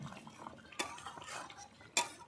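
A metal lid comes off a pot of chicken curry with kohlrabi, giving two sharp clanks about a second apart over faint kitchen clatter and stirring, close by and with no talking.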